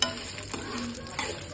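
A tempering of fenugreek, mustard seeds, dried red chillies and garlic frying in hot oil, a close, continuous crackling sizzle with a few sharper pops, no voices.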